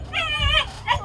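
A dog's high, drawn-out whine turning into a yip, followed by a short second yelp, close and fairly loud, on an island where dogs were abandoned.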